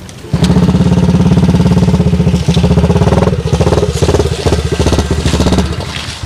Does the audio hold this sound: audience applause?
no